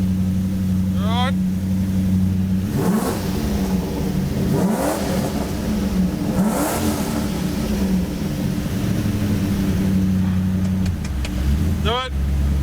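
A 1,000-horsepower Toyota Supra fitted with a rear-mounted turbocharged V8 revs hard in loud, repeated surges with rising whines over a steady droning idle, while people talk nearby.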